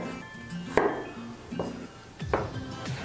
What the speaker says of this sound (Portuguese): Os dentes de alho, quero muito bem repicados. Então primeiro vou cortar umas tirinhas